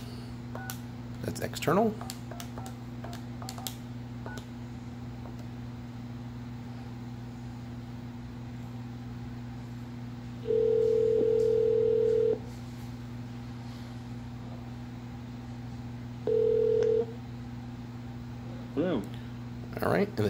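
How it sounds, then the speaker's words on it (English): A Grandstream GXP2170 desk phone holds a steady dial tone, broken by one longer and one short keypad dialing beep. A voice speaks briefly over it. "And you can also dial to another line"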